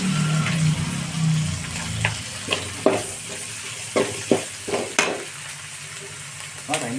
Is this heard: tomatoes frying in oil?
yes